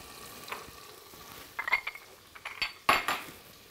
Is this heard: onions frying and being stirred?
yes